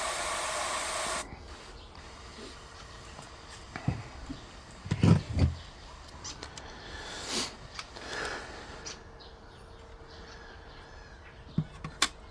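Garden hose on a misting setting spraying Chinese elm cuttings and damp soil in a fish tank propagator, heard as soft intermittent hissing bursts of spray close by, with a loud rush at the very start.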